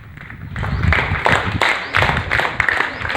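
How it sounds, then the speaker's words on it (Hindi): Neighbours clapping loudly to welcome a man home after he recovered from a virus, a dense uneven burst of close hand claps and a few thumps, with no talk over it. "सभी आस पड़ोसियों ने उनके लिए जोरदार तालियां बजाईं"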